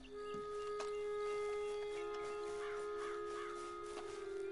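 Crows caw out in the open in the video game Red Dead Online: several rough calls, faint and from a distance, with steady ambient birdsong behind them.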